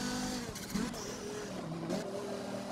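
A race car in Forza Motorsport 7 brakes and downshifts into third gear on the Le Mans circuit, engine note dropping with blips and revs, fairly quiet and steady throughout.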